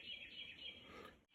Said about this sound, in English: y'all can hear the birds singing